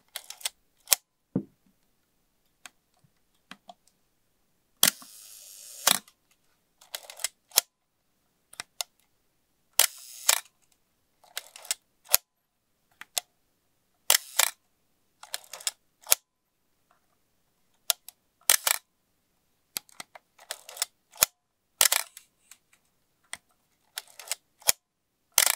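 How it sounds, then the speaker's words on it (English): An Asahi Pentax Spotmatic SP film camera's mechanical shutter fires repeatedly, sharp close clicks and clacks spaced irregularly a second or two apart, some with a brief winding rasp, over near silence. "Let's have a listen at the shutter."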